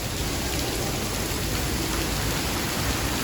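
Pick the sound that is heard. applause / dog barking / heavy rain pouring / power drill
heavy rain pouring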